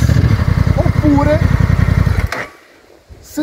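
A Honda NT 1100 motorcycle with DCT automatic gearbox idles with a close, throbbing putter under a man's speech, then revs briefly before cutting off into near silence.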